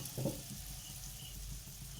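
Bottle gourd leaf rolls coated in gram flour batter fry in hot oil, giving a faint, soft, steady sizzle heard close up and alone.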